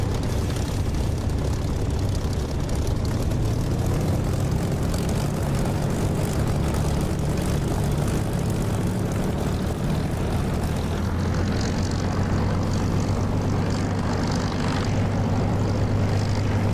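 A Spitfire in the DCS flight simulator taxiing with its piston engine running: a loud, steady propeller drone that holds throughout, with a low rumble and a slight shift in tone toward the end, no voice.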